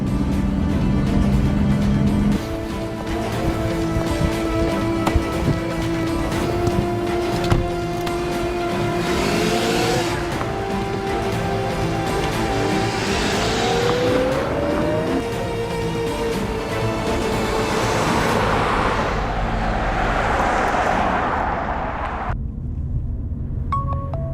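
A car speeds along with a steady engine drone and tyre roar throughout, the engine note rising and shifting as it accelerates; a voice speaks over it.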